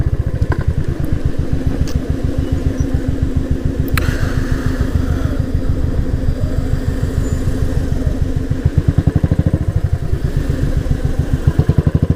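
A Royal Enfield motorcycle engine thumps in a steady, rapid beat while riding in the Yercaud hills, loud and close, with a continuous low rumble and no talking.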